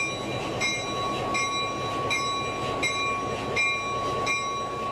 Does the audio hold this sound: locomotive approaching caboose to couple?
yes